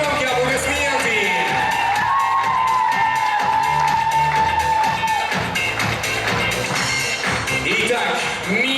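A university contest audience cheers and whoops loudly alongside applause, a dense, continuous crowd roar with shouts over booming music.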